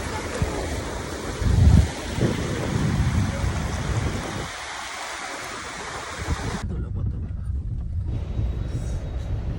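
Sea waves wash onto a beach under steady wind buffeting the microphone, with a louder surge early on and a continuous rushing roar throughout, easing briefly later.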